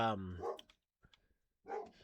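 Dogs bark at home during a tabletop game session, a few close, harsh barks mixed with people talking, separated by short quiet gaps.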